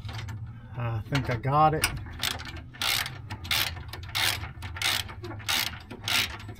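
Ratchet wrench clicking in rapid bursts while tightening bolts on a spare tire carrier of a Land Rover LR4/LR3, close and loud, with someone speaking briefly near the start.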